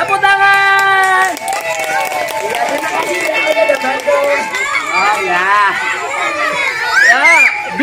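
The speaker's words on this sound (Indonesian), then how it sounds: "Tepuk tangan." A group of children claps during a school orientation storytelling and magic show, the clapping mixed into loud, excited young voices singing and shouting over it.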